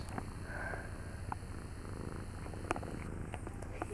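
A pet cat purrs close up, a soft continuous rumbling drone that holds steady and fairly quiet for several seconds, with a few small clicks and no talking.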